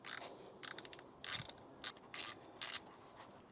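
Ratchet wrench turning a spark plug on an old Mercedes W203 C240 with the M112 engine, giving several short, quiet bursts of fast clicking separated by pauses.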